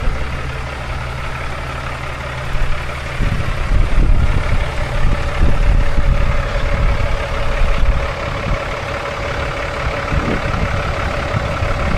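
A 2008 Kenworth T800 truck, a former winch truck turned heavy-haul tractor, runs with a steady deep diesel rumble that thickens and grows louder partway through, close by.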